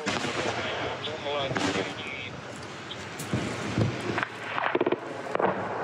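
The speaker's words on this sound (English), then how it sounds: "Разрывы." Shelling explosions in war footage, a Ukrainian armored vehicle with troops aboard coming under fire, with an anti-tank missile launched nearby: a dense, noisy roar of blasts and bursts throughout, several sharper impacts near the end, and voices mixed in.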